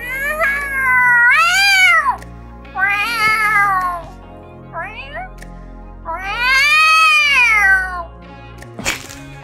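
A human voice imitates a cat's meow to call a tuxedo cat, giving four drawn-out, wavering mews up close and loud, with short pauses between them.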